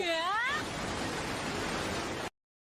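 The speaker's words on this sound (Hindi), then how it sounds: "इस झरने के ठंडे पानी को सर पर गिरने दो।" A cartoon waterfall of cold water pours down in a Hindi-dubbed Doraemon episode, a loud, steady rushing hiss that starts just after a brief voice and stops abruptly.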